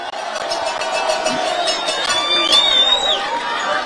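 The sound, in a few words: crowd applauding and cheering at Nakuru rally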